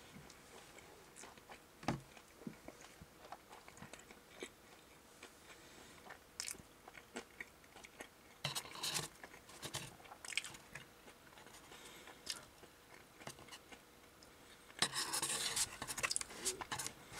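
Someone bites and chews a whole-garlic meat pizza up close, with crunchy, crackly bites and wet chewing in an uneven rhythm, plus a louder burst of crunching near the end.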